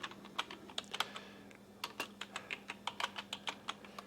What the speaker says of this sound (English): And let's type in RC600